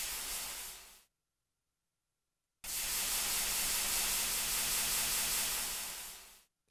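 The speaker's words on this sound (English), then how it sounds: "It's not doing anything except making a hissing sound." Loud broad hiss from a thrown item in modded Minecraft, one short burst that cuts off after about a second, then a longer steady hiss of several seconds that ends abruptly.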